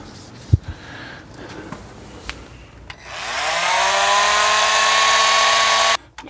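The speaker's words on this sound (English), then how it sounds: "this little cutoff tool that we use to cut the baseboards" Small power cutoff tool cutting baseboard. A few faint taps and knocks come first, then the tool spins up with a rising whine and runs as a steady loud buzz for about three seconds before cutting off abruptly.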